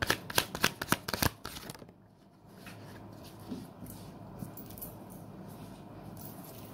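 Tarot cards being shuffled up close, a quick run of crisp riffling and slapping bursts at the start, then softer rubbing and handling of the deck with faint background hum.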